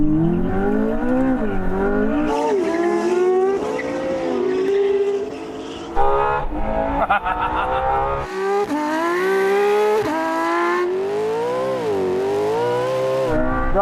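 Three hypercars, a McLaren P1, a Porsche 918 and a LaFerrari, drag race over the quarter and half mile, their engines roaring loud and close, pitch climbing and dropping through each gear change.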